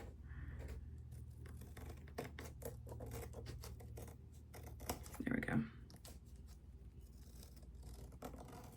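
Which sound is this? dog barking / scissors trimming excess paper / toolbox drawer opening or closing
scissors trimming excess paper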